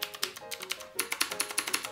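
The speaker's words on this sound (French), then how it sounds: "C'est tout simplement un clavier qui reprend, comme tu vois, l'interface d'un clavier de machine à écrire." Quick, crisp clacking keystrokes on a Qwerkywriter, a typewriter-style Bluetooth keyboard, in an irregular fast typing rhythm, close and clear with no voice.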